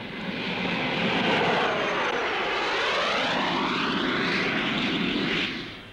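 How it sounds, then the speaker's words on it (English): A Provost piston-engine trainer aircraft flying a slow roll at an air show, its loud engine drone sweeping up and down in pitch as it passes, continuous for several seconds before fading out. "Here's a slow roll by numbers. The docile provost is on the pilot's side all the time."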